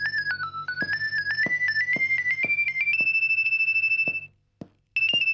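A phone ringtone plays a bright, repeating melodic tune in steady pulses for about four seconds, stops briefly, then starts again, loud and close with no talking over it.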